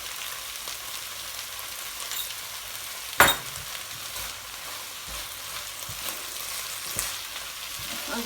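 Spring onion and prawn stir-fry cooking in a pan with salt, giving a steady, quiet sizzle and a single sharp clink of a utensil partway through, with no talking.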